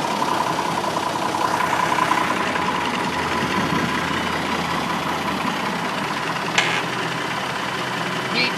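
An Oliver 1850 tractor engine runs steadily with its PTO engaged, a continuous low idling drone with a faint mid-range hum and one brief sharp click near the end.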